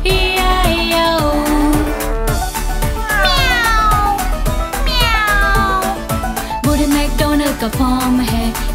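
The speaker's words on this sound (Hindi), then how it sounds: "और उसके फॉर्म में बिल्ली है E-I-O। म्याऊ म्याऊ यहाँ, म्याऊ म्याऊ वहाँ" Cat meows sung inside a Hindi version of the Old MacDonald farm nursery rhyme, rising vocal meow-like phrases repeating over a steady bouncy musical backing with a regular beat; the meows are likely voiced by a singer rather than a real cat.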